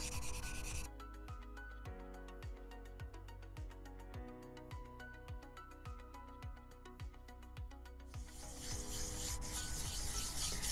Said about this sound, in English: we're gonna continue to smooth down the edges and any rough edge and get out all of the scuff marks from the previous stage